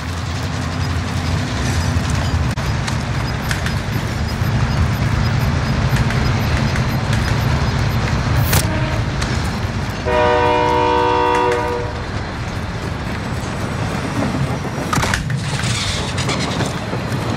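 Train rolling past in Call of Duty: Modern Warfare, a loud continuous rumble and rattle of cars with a sustained multi-tone horn blast partway through, plus a sharp metallic screech.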